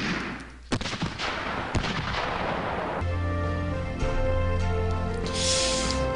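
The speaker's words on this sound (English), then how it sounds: "You all are hitting me with your three cannons." Cannon artillery fire in the Civil War Generals 2 strategy game: a few sharp booming blasts near the start, then rumbling battle noise under game music, loud and close.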